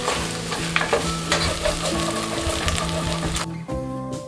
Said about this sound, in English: So our onion is sauteed now.